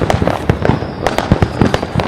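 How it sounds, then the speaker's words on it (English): Fireworks exploding in a rapid, chaotic barrage, with loud sharp bangs and crackles firing close together one after another across the whole stretch. "When the fireworks go crazy, that's my favorite."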